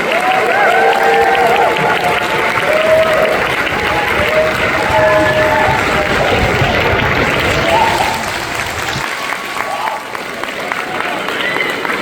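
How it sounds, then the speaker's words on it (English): Loud applause and crowd noise from an audience welcoming a film director on stage, steady and sustained with some cheering and babble, easing slightly near the end. "Let's keep the applause going."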